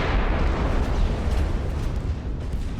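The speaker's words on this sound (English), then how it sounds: "Looks like a shell hit the forward turret." A naval shell hitting a warship's forward turret during a battle in Ultimate Admiral: Dreadnoughts: a continuous, loud, rumbling blast of deep low-end roar that stays dense and heavy throughout, with no voices.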